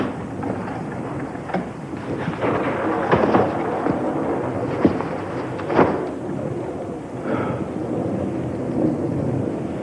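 Thunder on a stormy night, low rolling rumbles with several sharper cracks spread across the stretch, under a steady wash of rain-like noise and with no voices.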